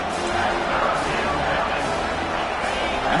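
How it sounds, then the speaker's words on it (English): A college football crowd in a stadium late in the game, with the defense in the red zone, keeps up a steady, dense roar of cheering and noise without break. "And the crowd coming to life here"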